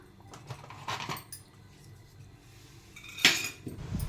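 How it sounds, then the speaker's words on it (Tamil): Poha puttu flour being mixed with grated coconut in a bowl, giving a few soft scraping and clinking utensil sounds at a low level, with a sharper clink near the end. "இப்போ இது எல்லாத்தையும் நம்ம மிக்ஸ் பண்ணிக்கலாம்"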